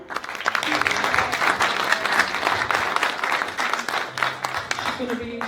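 A church congregation at a Youth Sunday service claps in sustained applause, dense and loud throughout, with voices calling out over the clapping.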